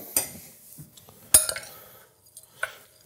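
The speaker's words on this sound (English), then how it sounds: "Now we're just gonna give this a little mix." A utensil scrapes and clinks against a bowl while mixing a crust of chopped pistachios and garlic for rack of lamb, a few sharp close clinks separated by softer stirring and brief pauses.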